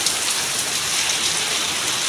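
A steady downpour of heavy Konkan monsoon rain hisses loud and unbroken on nearby surfaces, a constant wash with no pauses and no voices.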